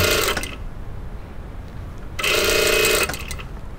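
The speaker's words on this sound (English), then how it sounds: "and top stitch it up out of the way" A sewing machine topstitching the back waist facing of a skirt with an invisible zip, two close bursts of fast running stitching, a short one then a longer one, separated by a quiet pause.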